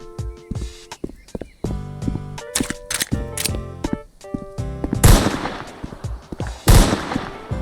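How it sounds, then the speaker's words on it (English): Glock 18 pistol firing in the video game A Long Road: a series of sharp, loud gunshots, some in quick bursts, ringing out over music-like tonal background, with no talking. "let's test the Glock 18 pistol"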